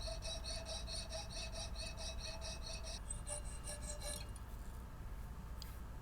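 Madagascar rosewood for a guitar saddle plug is shaped by hand with a file, giving close, quiet, rhythmic rasping strokes in a steady back-and-forth pattern that thins out toward the end. No voices.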